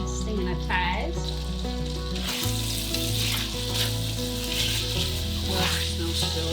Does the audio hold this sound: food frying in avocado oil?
yes